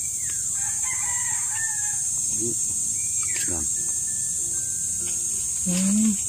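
Roosters crow in a yard, a couple of drawn-out cock-a-doodle-doo calls at moderate distance with a final closer, louder crow, over steady insect hiss and faint background chatter.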